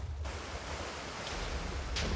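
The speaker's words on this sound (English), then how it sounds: "Water cannonball." Water cannonball attack in Naruto ShinobiCraft, a Minecraft mod: a sudden broad rushing surge of water, like crashing surf, that keeps roaring for about two seconds with brief bursts of spray on top.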